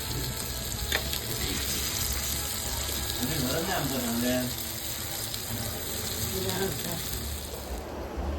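Surmai kingfish frying in a pan, a continuous loud sizzle with faint clinks and brief background voices mixed in.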